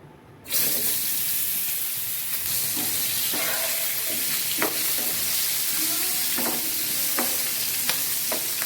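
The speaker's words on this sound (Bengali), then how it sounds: "এই তেলটার মধ্যে আমি কারকলটা ভেজে নিচ্ছি।" Spiny gourd (kakrol) fries in oil in a pan, a loud, steady sizzle that starts abruptly and holds throughout, with occasional stirring clicks and scrapes on top.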